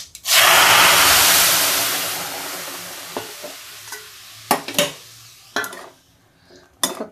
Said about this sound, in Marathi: शिजलेली बी घालूया फोडणीमध्ये